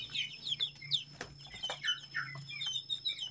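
Chickens cluck and chirp in a plastic-built backyard coop, a steady busy chatter of short calls from several birds over a low hum.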